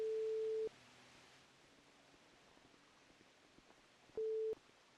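Two steady electronic phone tones sound in a GTA roleplay game, one at the start and one near the end, with a faint quiet hiss in the gap between them and no talking.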